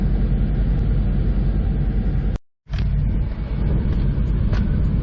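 A pickup truck with a trailer drives away from a performance shop, giving a continuous loud engine and road rumble that drops out for a brief moment partway through.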